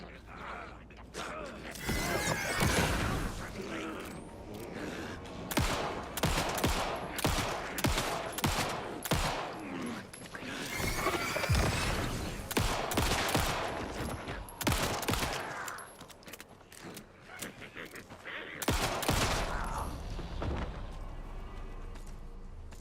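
Rapid bursts of gunfire from the horror video game Alan Wake II, loud repeated shots and clatter in clusters across the whole stretch, mixed with creaking mechanical game sounds.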